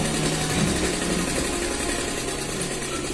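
A sewing machine runs a stitch along the side seam of a kurti. The motor hums steadily and close throughout with a constant mechanical whir, and no one speaks.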